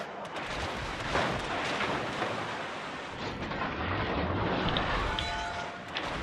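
Warship secondary guns fire in World of Warships Legends, a dense, continuous booming roar of overlapping blasts with a heavy low rumble that stays loud throughout.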